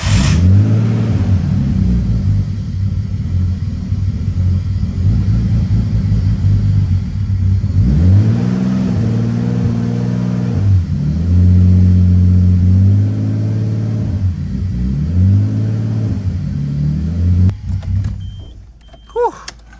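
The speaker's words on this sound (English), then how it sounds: "We're gonna go start the car up and spray some intake cleaner in, and then it's gonna be mad at me for a second" Nissan Skyline engine runs loud and rough up close while intake cleaner is sprayed in, revs repeatedly dipping and surging in uneven waves before the engine shuts off.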